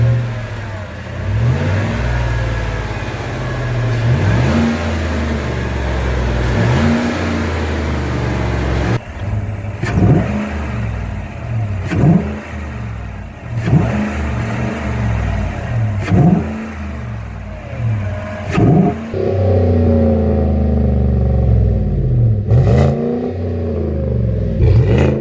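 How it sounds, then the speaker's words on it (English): A 2017 Chevy Silverado pickup's 5.3 V8 engine with a Corsa Performance cold air intake idles with a deep rumble and is revved repeatedly in short bursts, roughly every couple of seconds, loud and close. "give it some revs to see what it sounds like with the air box on"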